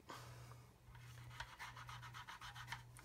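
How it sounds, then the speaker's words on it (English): Cotton bud soaked in X20A thinner rubbed over a 1/32 scale Spitfire plastic model kit, giving soft rhythmic scratchy strokes, close and quiet, with a steady low hum underneath. "Give it a good rub."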